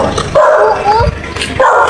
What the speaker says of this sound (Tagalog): Tatakbo, may aso.